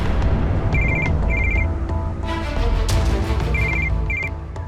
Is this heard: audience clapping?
no